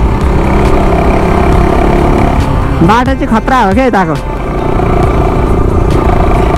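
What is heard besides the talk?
motorcycle riding on a road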